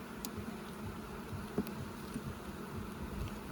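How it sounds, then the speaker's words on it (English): Honey bees swarm an open hive while it is being inspected, making a dense, steady buzz close to the listener, with a few faint rustles and taps of frames handled. "Look at all the bees in here, man."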